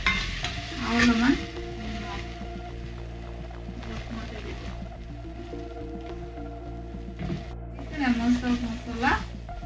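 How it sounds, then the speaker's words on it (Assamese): Spices frying with tomato and ginger in a pan for a simple brinjal dish, a soft steady sizzle with stirring scrapes, a few louder bursts near the start and end, and faint background speech. "এতিয়া অলপমান এনেকৈ ভাজি ল'ম"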